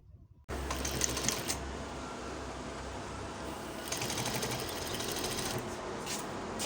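A sewing machine stitches a bomber jacket, starting abruptly after a brief quiet moment and then running in a steady, close mechanical whir with a faint rapid needle patter throughout.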